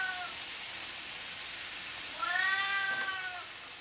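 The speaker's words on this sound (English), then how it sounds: "My cat's trying to help me out. You can hear her singing." A pet cat meows in a kitchen, one rising, drawn-out plaintive call near its end over a steady hiss of background noise, no talking.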